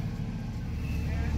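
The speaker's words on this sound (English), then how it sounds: "crane coming through" A crane rolls through a scrapyard, its heavy engine a steady low rumble that holds close and loud for the whole moment, with a faint rise toward the end as it passes.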